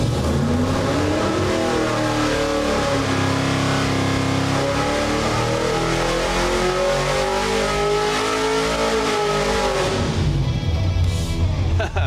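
A 632 cubic-inch big-block Chevy V8 on an engine dyno, revving loud and steady through a full pull with a rising engine tone that holds near its peak before cutting off, with a brief voice underneath.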